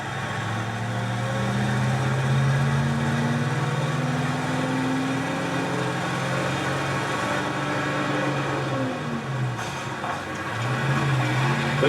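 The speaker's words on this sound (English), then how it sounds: "we also have the car carrier truck." Car carrier truck engine idling in the video game Teardown, a steady low rumble with a droning hum that holds at constant loudness throughout, close and alone without talk.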